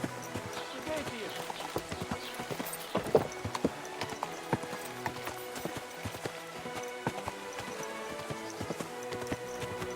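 Rapid clip-clop of hooves from a galloping horse in the video game Kingdom Come: Deliverance II, steady and fairly close, with voices and other scattered noises mixed in.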